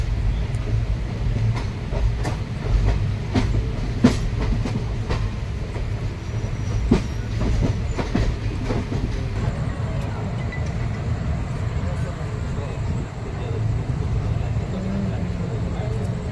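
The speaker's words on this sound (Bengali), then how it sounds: "ট্রেন এখন খুর্দা স্টেশন ঢুকছে।" An intercity express train running into Khurda station at night, with a steady rolling rumble and repeated rail clicks and clanks, and faint voices in the background.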